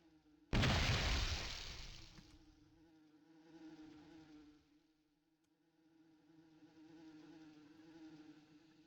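Wasps in the online role-playing game Asheron's Call: a loud, broad insect buzz bursts in and fades over about two seconds, followed by a quieter, steady droning hum that continues alone.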